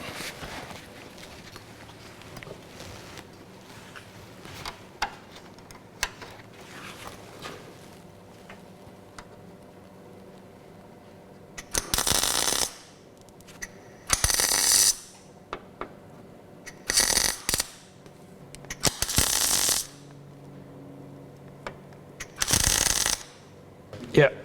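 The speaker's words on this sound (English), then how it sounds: "I'll tack weld that in place, then we'll plug weld it" Tack welding a car body panel, several loud crackling bursts of a few seconds each, separated by pauses, following a quieter stretch of faint workshop clicks and handling noise.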